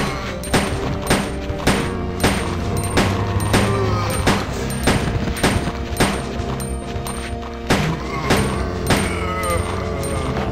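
Rapid handgun fire in the Resident Evil 2 remake, a steady run of sharp close shots spaced about half a second apart, set against a dense game soundscape with some background noise.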